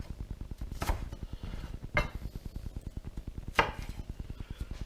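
A knife chops onions into rings on a board with quick, steady strokes, a rapid rhythm of close, crisp knocks broken by a few louder thumps, and no talking.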